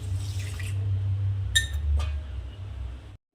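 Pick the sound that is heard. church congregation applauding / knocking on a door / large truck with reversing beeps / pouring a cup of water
pouring a cup of water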